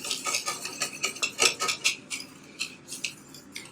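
A spoon stirs vegan chocolate ganache in a bowl with quick rhythmic clinking scrapes against the sides, close and steady and slowing slightly toward the end, with no voices.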